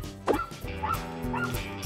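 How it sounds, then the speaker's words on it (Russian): Recorded dog barking, a dog video played at full volume from inside a bag: a sharp bark, then yips and whimpering barks over a couple of seconds. "Включить видео собаки на всю громкость и положить в сумку."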